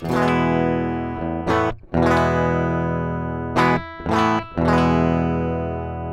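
Electric guitar plugged directly into an audio interface with no amp, played clean and thin, sustained chords with a few short breaks between strums, loud and close with no talking.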